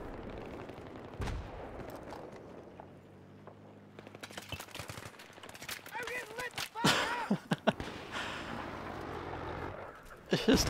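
Battlefield 3 combat with scattered gunshots and bursts of automatic fire of varying distance, some loud close cracks near the end, mixed with other game noise and talk.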